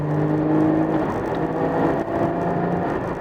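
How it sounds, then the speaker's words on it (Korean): Naturally aspirated boxer engine of a 428-horsepower Porsche 718 Cayman GT4, accelerating with a steady, loud, droning rumble heard from inside the cabin, with no talking. "자연흡기 엔진의 박스 엔진이어서 엔진 사운드가 상당히 매력이 있습니다"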